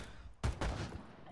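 Gunfire in the VR shooter Pavlov gives two quick, sharp, faint blasts close together, followed by a short fading tail.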